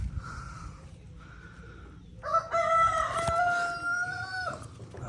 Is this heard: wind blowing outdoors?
no